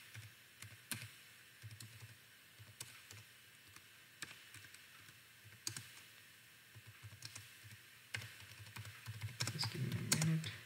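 Typing on a computer keyboard: steady, fairly quiet clicking keystrokes in an irregular rhythm, growing a little busier toward the end, with no voices.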